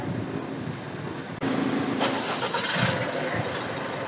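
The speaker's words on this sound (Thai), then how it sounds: "เสร็จแล้วใช้ปุ่มสตาร์ทเครื่องครับปุ่มบนสุดกดค้างไว้" A 2022 Isuzu MU-X engine, started by remote key, turns over and catches, settling into a steady idle hum with a brief clicking before it, heard fairly close.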